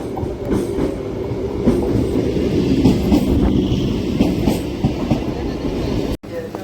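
A Bongaon local passenger train at Gopalnagar rumbles by close and loud, with a steady rhythmic clatter of wheels over rail joints and faint voices in the background.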